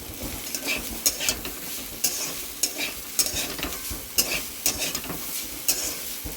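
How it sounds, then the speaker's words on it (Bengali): Pasta fries with browned onions in a pan, giving a steady sizzle under rhythmic scraping and clinking from a spoon that stirs it about once a second. "এবার হালকা একটু পাস্তাটাকেও ভেজে নিতে হবে।"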